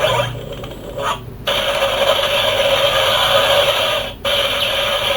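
Finisher effect from the DX Tega June toy of No. 1 Sentai Gozyuger: a brief burst of loud, dense electronic sound through a small speaker, close up, with two short dropouts.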